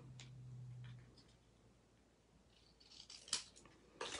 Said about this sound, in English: I'm gonna snip it off.